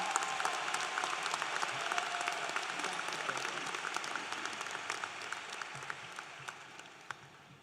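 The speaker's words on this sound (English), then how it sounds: "Please join me in a round of applause for our valedictorian, Rashid Sarkar." A large graduation crowd at Denmark High School applauds valedictorian Rashid Sarkar, a broad, distant-sounding wash of clapping that stays steady throughout and fades slightly toward the end.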